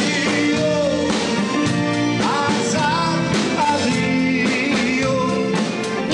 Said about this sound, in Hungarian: Újabban a jól ismert surdával nyomulnak.